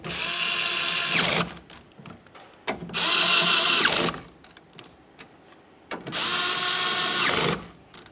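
A power drill running bolts snug on the door of a 2005-2010 Chevy Cobalt, whirring in three bursts of about a second or more each, separated by short quiet gaps.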